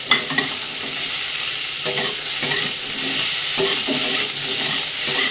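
Paneer, pumpkin and carrot fry in a pan with a loud, steady sizzle, while repeated spatula scrapes and knocks come through as the pieces are stirred.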